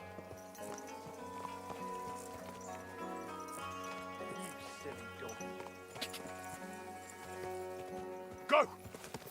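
Hooves clip-clop steadily from a horse in the video game Kingdom Come: Deliverance II, moderate and even, over a humming game music bed with a brief louder bump near the end.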